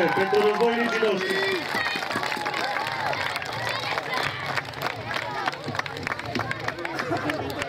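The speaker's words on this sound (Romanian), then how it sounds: "Aplauze pentru războinicii noștri!" A festival crowd claps and cheers for Dacian and Roman reenactment warriors after a staged fight. Applause and shouts mix with a loud announcer voice and nearby chatter.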